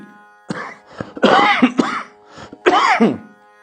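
Several harsh, close coughs from a viral fever come in quick bursts, some raspy and throaty, separated by short pauses.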